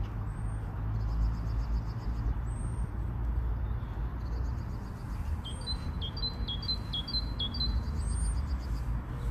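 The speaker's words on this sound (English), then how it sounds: "You hear the birds in the background?" Small birds chirping and singing in short repeated phrases beside a canal, fairly distant over a steady low background rumble of wind or traffic.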